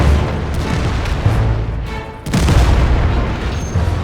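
Tank cannons boom in the video game World of Tanks, with heavy, loud, low blasts at the start and again midway amid rumbling battle noise.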